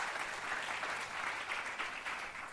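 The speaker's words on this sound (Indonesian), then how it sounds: "Berikan dulu tepuk tangan bagi Tuhan." Church congregation at a fasting prayer service claps together, a dense, steady wash of applause throughout, moderately close and alone without talk.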